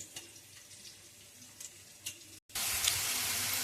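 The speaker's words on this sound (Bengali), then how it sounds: "তেল গরম হয়ে যাওয়ার পরে দিয়ে দেবো কেটে রাখা আলুটা। এগুলো লাল লাল করে ভালো করে ভেজে নেবো।" Salted, cut potatoes drop into hot oil for a Bengali fish-head muri ghonto. Faint kitchen ticks give way to a moment of silence, then a sudden, loud and sustained sizzle.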